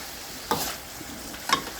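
Food frying in a pan, yellowing before oyster sauce goes in, stirred and scooped: two distinct scraping scoops about a second apart over a faint steady sizzle.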